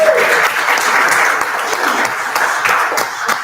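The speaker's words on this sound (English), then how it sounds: "let's give her a big round of applause." Congregation at a Sunday church service applauding in a steady, sustained wash of clapping that fills the room, with faint voices mixed in.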